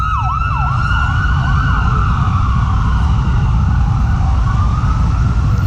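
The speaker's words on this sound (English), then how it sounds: "That ambulance will get there." An ambulance siren wails in rising and falling sweeps over a constant low rumble of traffic, loud and sustained.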